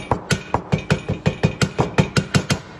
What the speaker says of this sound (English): you're gonna hammer on it